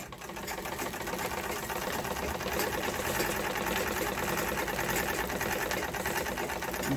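A sewing machine stitches paper in circles working toward the center, making a rapid, even mechanical whir that runs continuously at moderate volume without talk.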